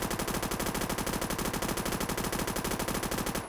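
Fully automatic gun from Phantom Forces, a 700 RPM version, fires one steady, rapid, unbroken burst, loud and close, then stops abruptly at the end.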